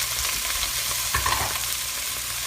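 Parboiled Brussels sprouts hit a hot pan and crackle in a loud, dense sizzle that flares briefly midway, no voices present.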